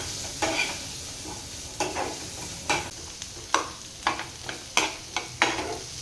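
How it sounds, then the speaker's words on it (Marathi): Chopped tomatoes with onion are sautéed in a pan for a leafy-greens dish, with a soft continuous sizzle punctuated by repeated scraping stirs of a spatula at an irregular rhythm, close and without talk. "टोमॅटो सुद्धा छान परतून घेणार आहे"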